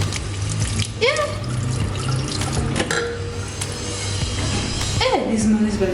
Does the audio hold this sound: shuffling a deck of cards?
no